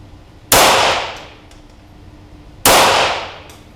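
Two sharp, loud .22LR rifle shots firing CCI Standard ammunition, about two seconds apart at a range, each crack followed by a short decaying ring, with no talking.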